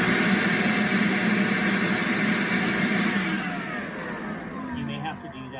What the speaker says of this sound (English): You'll need to take a shop vac and put your shop vac over the end of the drain line